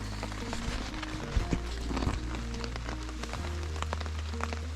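Heavy rain patters steadily over a low, continuous rumble at a riverside campsite along the Magnetawan River, with occasional sharper drips and taps standing out; no voices.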